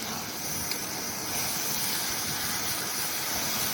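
Rohu fish frying in hot oil in a pan, a loud continuous sizzling hiss that holds steady throughout with no talk over it.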